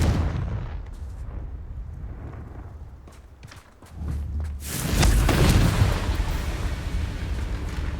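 Confringo fire spells from Hogwarts Legacy blasting in combat, a run of rumbling booms that builds into a loud, sustained roaring burst, heard with no talk.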